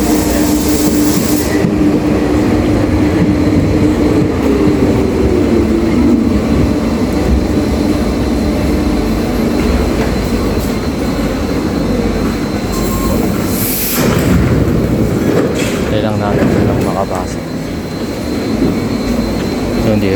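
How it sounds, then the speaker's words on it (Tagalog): A train in Paris, France rumbles steadily nearby, wheels clattering and occasional metallic squeals rising over the continuous loud roar. "yan na yung tren na sasakyan ko"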